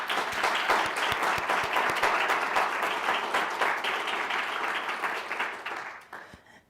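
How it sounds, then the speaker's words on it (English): Sustained audience applause at a school's annual state of the school address, dense steady clapping from a large room that fades out near the end. "Let's give them a round of applause."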